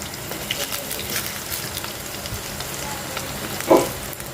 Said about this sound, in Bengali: তো উল্টে পাল্টে যদি আলুটা ভাজা হয়ে যায় হালকা একটু কষাইলেই হয়ে যাবে